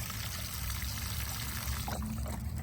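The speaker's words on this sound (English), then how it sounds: "3 or 4 quick seconds of a pour." Liquid fertilizer poured onto eggplant plants outdoors in a vegetable garden, a steady splashing pour lasting a few seconds, fairly faint and continuous with no talking.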